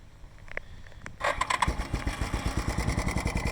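A Yamaha Big Bear 350 ATV on choke cranks briefly with a few clicks, then fires and settles into a loud, rapid, rhythmic putter close by.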